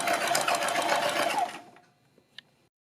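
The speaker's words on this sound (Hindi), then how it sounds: "सिलाई में थोड़ा ज़्यादा दबाना है और बिल्कुल सीधी इस पर सिलाई लगानी है।" A sewing machine stitches a strip of fabric for a suit or kurti neckline in one close, fast, even whirring run of about a second and a half, then stops, followed by a couple of small clicks.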